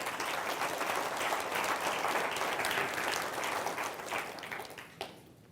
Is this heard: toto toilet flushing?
no